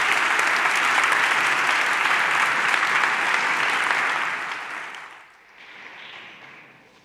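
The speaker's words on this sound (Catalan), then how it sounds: "Un aplaudiment, sisplau." Audience applause at an award ceremony, loud and sustained by a large crowd, then tapering off and dipping before a smaller, fainter patch of clapping near the end.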